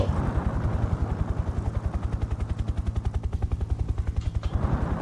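A helicopter fires its guns in an Unreal Engine 5 video game, with a rapid, evenly spaced stream of shots layered over steady rotor noise, moderately loud and running for several seconds.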